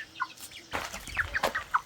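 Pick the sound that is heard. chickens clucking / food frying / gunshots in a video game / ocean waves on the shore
chickens clucking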